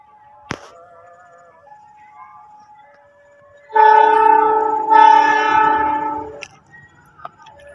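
A train, the Argo Wilis passenger train in Indonesia, passes with a loud, long horn blast in two sustained pushes, surrounded by quieter rail clicks and rumble.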